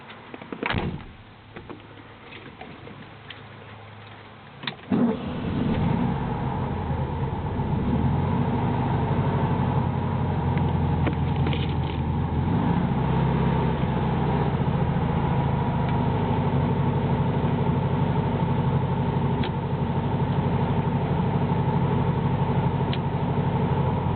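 A 1957 Volkswagen Beetle engine turns over after a few quiet clunks, catches around five seconds in and settles into a steady, close, even idle that runs on for the rest of the clip.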